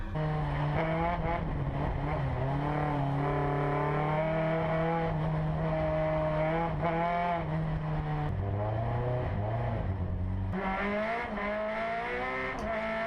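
A PRO3 race car at Portland International Raceway, on a track wet with rain and slick with oil from turns 2 through 7, its engine droning loudly and steadily, pitch rising and falling through shifts as it slides around corners.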